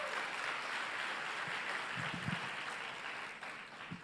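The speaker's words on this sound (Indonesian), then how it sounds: "tepuk tangan untuk Anda yang luar biasa" Steady crowd applause fills the room, a dense even clatter of many hands clapping at once, fading slightly toward the end.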